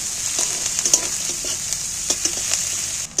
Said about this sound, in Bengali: এবার তেলের মধ্যে পেঁয়াজগুলোকে নাড়াচাড়া করে একটু ভেজে নিই।